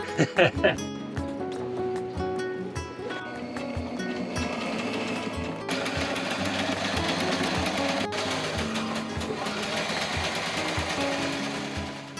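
A sewing machine stitches aboard a sailing boat, opening with a few sharp mechanical clacks and then settling into a fast, continuous whirring run close by.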